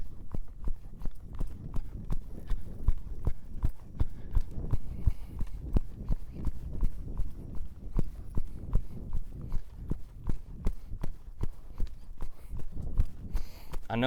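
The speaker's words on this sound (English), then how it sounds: "and just trot along, just trot and lope along." A Rockin' W ranch-bred colt trots steadily, its hooves clip-clopping in an even rhythm that stays close and constant, with occasional talk over the top.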